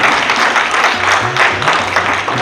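Guests at a family get-together applaud loudly for themselves, a full, close burst of clapping that holds steady for a couple of seconds.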